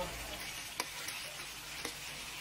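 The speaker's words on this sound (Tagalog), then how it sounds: "Iprito lang natin siya ng magandang-maganda." Steady sizzling of squid and pork belly frying in a pan, with a couple of faint clicks of stirring and no voices.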